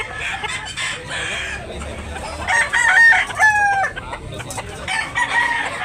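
Roosters crow repeatedly at a busy chicken market in Tabunok, Talisay, Cebu, with loud overlapping calls and clucking over a murmur of crowd background.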